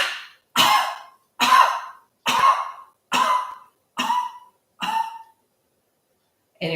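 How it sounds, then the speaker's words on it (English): Seven forceful coughs come at a steady, even rhythm during a yoga breathing exercise, each one loud, close and sharp, followed by a pause and the start of one more. "And you're coughing so you can feel the belly move in and out."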